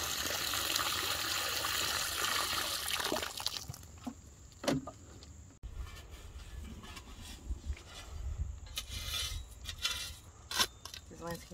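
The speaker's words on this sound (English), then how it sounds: "I'm going to go ahead and prep this hole by filling it with water" Water pouring into a garden planting hole, a steady splashing rush for several seconds that fades into scattered trickles and soft knocks, with a person talking quietly over the later part.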